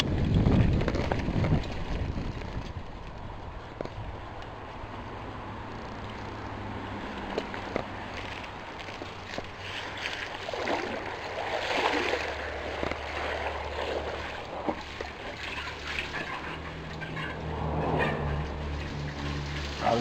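A mountain bike rolls through a creek crossing on a trail, with rushing water, splashing and wind buffeting the microphone, plus low rumbling and occasional knocks from the bike.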